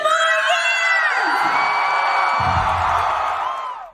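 A concert crowd at a Las Vegas residency announcement erupts in loud, high-pitched cheering, whoops and screams that hold steady, then thin out and fade near the end.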